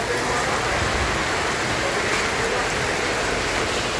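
Steady, dense rainfall hisses evenly throughout, a constant broadband wash with no pauses or distinct drops standing out.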